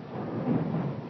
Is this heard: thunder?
yes